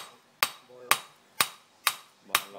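Five evenly spaced, ringing hammer blows strike a steel knife being forged, each sharp clang followed by a short metallic decay, close and loud with no talking.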